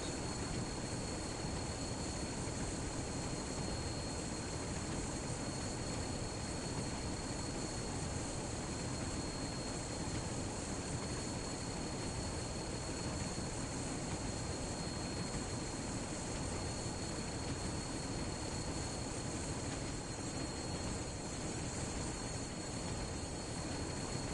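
A train running in the Train Sim World video game, a dense continuous engine roar and rumble with a steady high whine on top, loud and unchanging throughout, with no talk.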